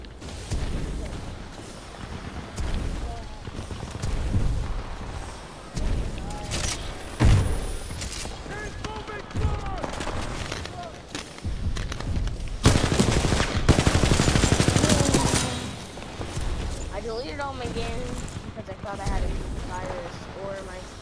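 Gunfire in a PlayStation video game, repeated shots and bursts of automatic fire under continuous talking, with loud booming blasts toward the middle.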